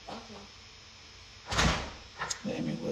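A door is closed with a sharp, loud thud, followed by a fainter knock. Speech-like sounds and household noise are present before and after it.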